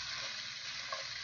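Onion sautés in a pan for vegan tamales with a quiet, steady sizzle over a short stretch and a faint stirring scrape near the end.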